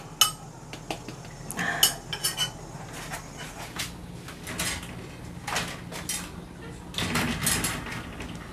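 Metal spoon clinking and scraping against a bowl during feeding with a duck-shaped spoon, with scattered irregular clinks and clatters at close range amid quiet room noise.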